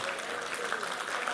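Dense, steady applause from an audience at an Urdu mushaira poetry gathering, filling the whole moment at an even, sustained level with no break.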